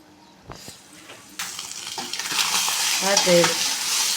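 Egg and capsicum fry stirred in a pan: a few light scrapes, then close, steady sizzling and frying with spoon clatter and stirring noises over the last few seconds.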